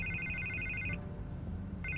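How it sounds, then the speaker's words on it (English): A telephone rings in a Batman video game, a loud electronic double-trill burst that stops partway and starts again near the end, over a low background hum. "I can't get the phone to stop ringing."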